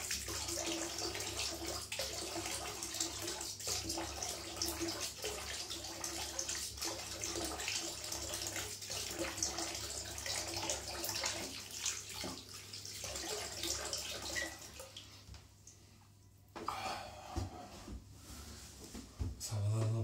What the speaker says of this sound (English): let's have a rinse of the face and see what it's like